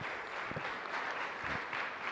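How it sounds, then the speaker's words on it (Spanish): A congregation gives brief, soft applause during a Catholic Mass for the Solemnity of the Immaculate Conception honoring the Virgin of Caacupé, heard as an even patter of hands at a distance. "Fuerte aplauso para el Señor entonces."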